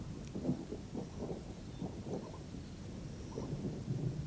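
A thunderstorm approaches in the wild: low, faint rumbling thunder rolls continuously under a soft wash of rain and wind, distant and steady, with no voices.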